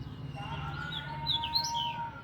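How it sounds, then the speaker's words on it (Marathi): Sparrows chirp in a home courtyard full of trees on a summer morning. Several birds twitter faintly and continuously against a low background rumble. "सकाळी बघा चिमण्यांचा आवाज किती, सगळीकडे किलकिलाट चालू आहे"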